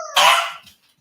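A corgi barks once, sharp and loud at close range, after a brief tonal sound, and the bark fades quickly into silence.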